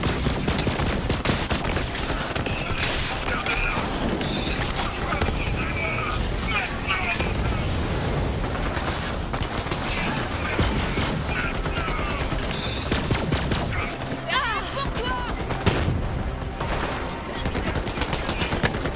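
Weapon fire in Borderlands 3, loud and dense bursts of shooting that run nearly nonstop over a noisy game mix, with someone talking throughout.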